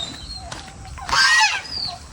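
A goose on a small backyard farm lot shared with pigs, chickens, ducks and turkeys gives one loud, harsh honk midway, rising clearly above quiet background chatter and bird noise.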